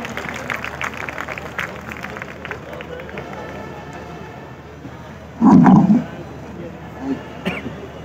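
An audience at a mushaira, a large Urdu poetry gathering at an expo, breaks into dense, steady clapping that fades gradually, followed by a brief louder burst and scattered noise.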